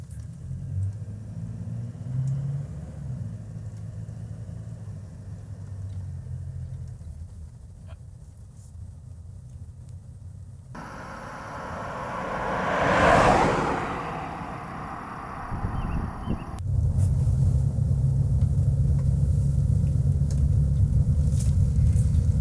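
An SUV on all-terrain tires driving at 30 km/h, heard as a steady low road rumble and tire roar inside the cabin, with a louder wind-and-tire swell in the middle.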